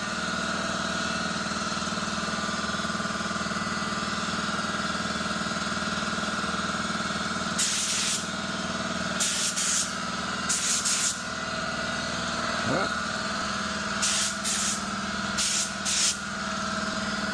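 Aerosol coating sprayed onto a big block Ford 460 engine part, several short hissing bursts over a steady loud idling engine hum in the background.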